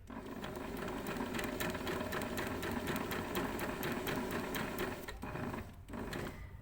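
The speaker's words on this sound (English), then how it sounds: "Then I'm going to do another stitch line, my second gathering stitch line, a foot's width from the first stitch line." A sewing machine running a long gathering stitch line on camisole fabric, a steady fast mechanical whir and needle clatter heard close, continuous for several seconds with a brief slowdown near the end.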